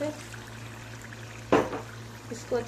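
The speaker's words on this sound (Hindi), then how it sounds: "इसमें हम थोड़ा सा पानी डालेंगे, आधा कप" Half a cup of water is poured into a cooking Peshawari mutton karahi, making a short, moderately loud splash and sizzle midway, with a smaller splash near the end over a low kitchen hum.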